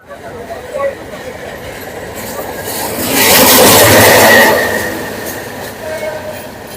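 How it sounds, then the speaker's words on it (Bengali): The Chattogram Mail train pulls out of Dhaka station. Its rumble and wheel noise build to a loud peak in the middle, then ease off. "আমাদের Chittagong mail, Dhaka mail, Dhaka station ছেড়ে যাচ্ছে।"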